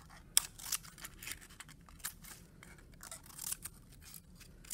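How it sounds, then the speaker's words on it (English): Scissors snip through strips of paper for a paper sculpture, with soft, irregular close-up cuts and crinkles spread across a quiet background. "And then I can cut more strips."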